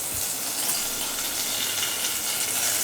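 Mustard seeds, urad dal, asafoetida and curry leaves fry in hot oil, giving a dense, steady hiss that stays close and even throughout.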